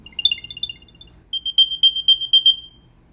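Two Apple AirTags, an AirTag 1 and an AirTag 2, play their high electronic chirps one after the other: a short trill of tones first, then a louder run of rhythmic beeping pulses, close and clear against a quiet room.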